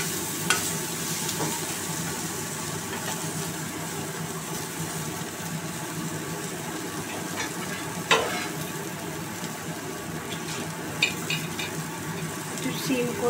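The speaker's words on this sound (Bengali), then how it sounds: "এবার এই সবজিটাকে একটু ভাজা ভাজা করতে হবে।" Bitter gourd and other vegetables stir-fried in a pan, a continuous soft sizzle with occasional clinks and scrapes of a spatula against the metal, close but moderately quiet, without talk.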